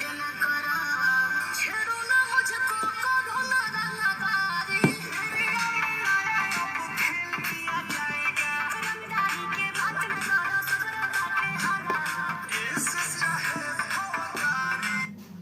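A song plays through the speaker of an Infinix Note 30 5G phone, with steady music filling the whole stretch and no talk over it.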